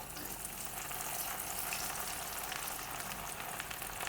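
Chana dal frying in oil for a papad-poha chevdo, a soft, even sizzle that stays constant throughout at low volume, with no voices.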